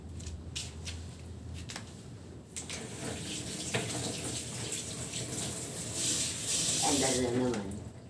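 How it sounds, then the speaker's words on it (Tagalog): Dishes being washed under a running kitchen tap, a steady water stream splashing into the sink with a few clinks as plates are handled, and a voice speaking over it. "Hugas tayo ng plato"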